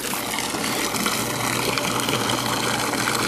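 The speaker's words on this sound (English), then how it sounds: "all I did is take one of these little pumps here" A small submersible pump sits in a swimming pool, moving water through a black solar heater, and gives a steady, close rushing and gushing of water that stays even and constant throughout.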